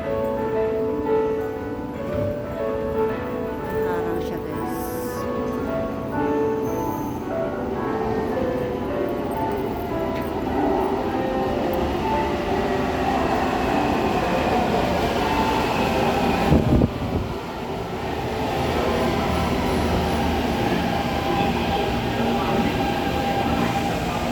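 A metro train rumbles steadily through an MRT station in Taipei with rolling wheel noise and faint squealing, a continuous loud roar lasting throughout.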